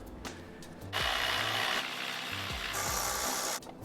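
A power tool whirs in sustained bursts, close and loud, with a short clicking pause between runs, while bolts come off a power steering pump on a BMW E90 M3.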